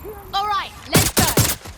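Three or four close, loud gunshots in quick succession from the Watch Dogs: Legion video game, following a short voiced cry in the game.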